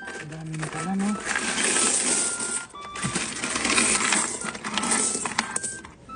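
Coins pour out of an opened piso wifi coin-operated machine in a continuous metallic clatter and jingle, with voices talking over it.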